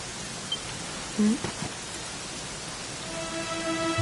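Steady rain falls in a Dragon Quest video game scene, a soft, even hiss throughout with a few brief louder tones and a low thud near the end.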